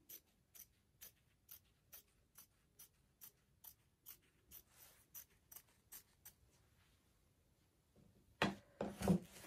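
Sharp duck-billed scissor snips trimming layered fabric seams of a men's dress shirt repeat in a steady rhythm, about a dozen evenly spaced cuts close by, followed by a louder burst of rustling fabric handling.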